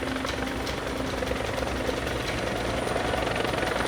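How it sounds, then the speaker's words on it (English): Military helicopter in flight, a steady loud rotor thrum and broadband engine roar that carries on unbroken throughout. "the helicopter is a choice target"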